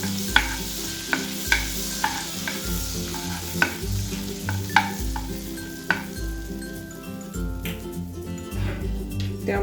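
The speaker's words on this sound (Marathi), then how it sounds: "दालचिनी, वेलची, मिरं आणि लवंग। एक मिनिट भरासाठी परतून घेऊ।" Whole spices, cinnamon, cardamom, pepper and cloves, sizzle steadily in hot oil in a pan, with repeated sharp scrapes and taps of a spoon stirring them, close up and continuous.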